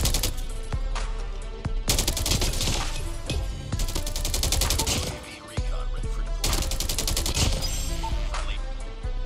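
Loud automatic gunfire in Call of Duty Mobile, three long sustained bursts separated by brief pauses.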